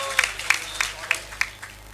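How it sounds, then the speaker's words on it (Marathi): Audience at a farmers' gathering clapping for a young farmer, a thin scattered round of separate claps, fairly sparse and moderate, with voices talking over them. "यांच्यासाठी टाळ्या व्हायला पाहिजे"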